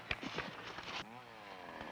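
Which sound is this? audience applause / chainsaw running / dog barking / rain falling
chainsaw running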